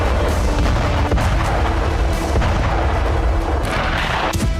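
Artillery and tank cannon fire in a war zone, a dense, continuous rumble of heavy booms and blasts overlapping one another, loud and sustained throughout with no pause.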